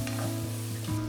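Chili powder being stir-fried into red oil for Mapo Tofu in a wok, a soft steady sizzle with light scraping stirs, close and alone.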